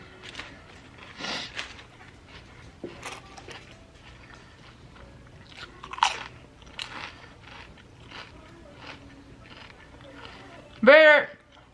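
Someone eats a Subway sandwich up close, with soft bites, crunches and wet chewing scattered through a quiet room and one sharper rustle near the end; no speech is evident.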